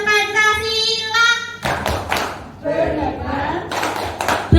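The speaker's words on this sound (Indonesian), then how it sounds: "Tepuk pelajar Pancasila" Students perform the Tepuk Pelajar Pancasila clapping chant at school: a sung or chanted voice first, then a group chanting together, punctuated by several sharp, close hand claps.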